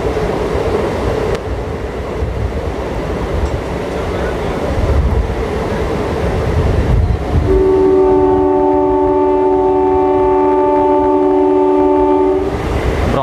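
An Indian Railways MEMU passenger train running between Berhampur and Bhubaneswar, its steady rumble and rattle of wagons loud and continuous, then a long sustained horn blast for several seconds near the end.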